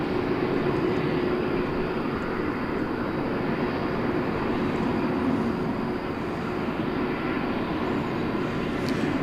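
A plane taking off at DFW Airport on the west side at night, producing a loud, steady jet engine roar that holds at constant strength with no talk throughout.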